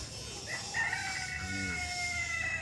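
A rooster crows once at moderate distance beside a chicken coop near an overgrown stone site, its call rising and falling over a steady outdoor background hum.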